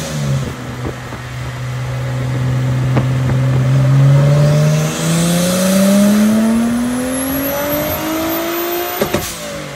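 A tuned 2022 Kia Stinger GT2 engine revs up steadily on a dyno with rising pitch, loud and close, holding high before dropping off near the end.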